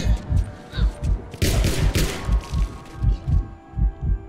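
Gunfire in The Last of Us: a steady series of deep, booming thumps at a regular pulse, roughly two per second, with a louder burst of noisy crackle midway, close and heavy throughout.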